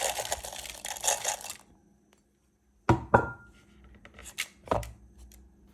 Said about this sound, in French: Je verse le tout dans mon robot mixeur.